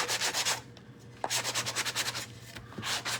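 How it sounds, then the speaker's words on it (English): Sandpaper rubs back and forth across a bamboo cutting board in quick, close strokes, with short pauses between bursts. "So I will sand it all off"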